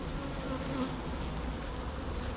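Honeybees buzz steadily around a beehive during a mid-July honey production visit, a dense, even drone of many wings close by that carries through without a break.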